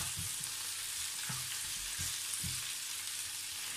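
Garlic, onion and meat frying for humba, a continuous bright sizzle with a few soft stirring knocks, close and steady, no talking.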